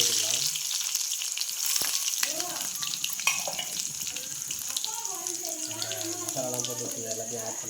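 Garlic, with crushed ginger nearby, frying in hot oil in a pan as the base for a crab fry, giving a steady sizzle with occasional stirring and scraping clatter, heard up close throughout.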